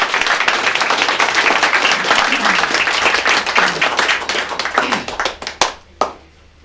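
Loud, close applause from an audience at a charity sponsored-walk cheque presentation, vigorous clapping that holds for about five seconds, then breaks into a few last scattered claps and stops.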